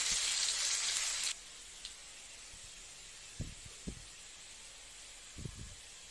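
Oil sizzles loudly in a pan for about a second, then drops to a faint steady hiss, with a few soft knocks from stirring. Vegetables go into a curry with katla fish head and Malabar spinach.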